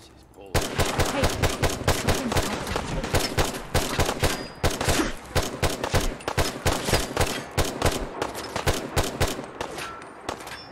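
Gunfire rattles in Fallout 4, Sim Settlements 2: dense, rapid bursts of shots that run nearly nonstop with short gaps, loud and close.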